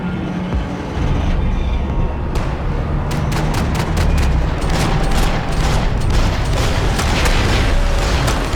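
Rapid gunfire from the video game Max Payne 3, several loud sharp bursts in quick succession with booming impacts over a dense, continuous backdrop of action noise.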